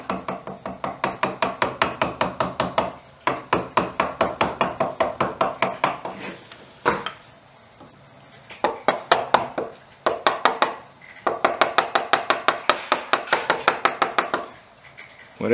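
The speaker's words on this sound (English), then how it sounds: "You can tap lightly with the hammer as well" Rapid series of light metallic taps, a hammer striking a chisel cutting a panel groove in wood, in quick rhythmic bursts separated by short pauses, close by and crisp.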